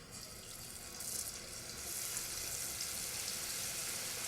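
Funnel cake batter frying in hot oil gives a steady, fairly quiet broadband sizzle that holds constant throughout, with no voices.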